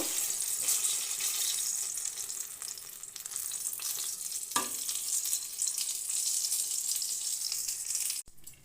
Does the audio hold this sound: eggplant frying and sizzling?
yes